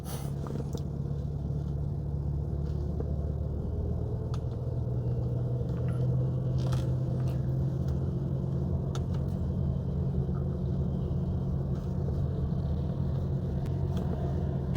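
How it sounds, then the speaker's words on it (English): Inside a 2011 Honda Accord driving and accelerating on the road, a steady low engine and road rumble holds throughout, with faint clicks and rattles on top and no speech. "Okay, so I'm out on the road here now, and I am accelerating."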